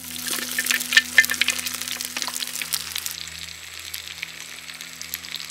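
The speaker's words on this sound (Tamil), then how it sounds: "இப்போ நறுக்கி வச்சிருக்க ஆட்டுக்காலை சேர்த்துக்கலாம்." Chopped mutton trotters hit a hot pan with green chillies, a bay leaf and shallots, sizzling and spattering steadily, with a few sharp crackles early on, close and moderately loud, no talking.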